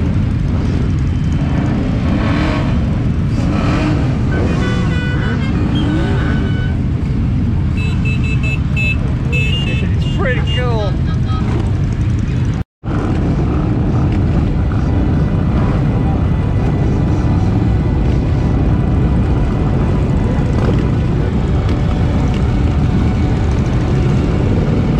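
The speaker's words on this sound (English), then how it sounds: "Everybody's just kicking all the bikes up now." Harley-Davidson motorcycles start up and rev together at a charity bike run, making a loud, continuous, overlapping engine rumble that swells and holds for the whole stretch, with a brief dropout partway through.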